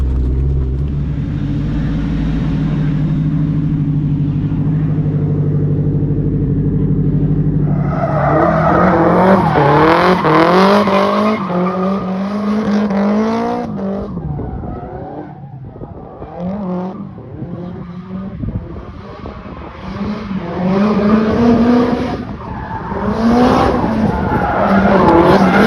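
A Nissan Silvia S14 drifting on a skid pan at a private drift day, loud engine revving through rising and falling pitch sweeps with screeching tire squeal, heard up close after a steady idling rumble.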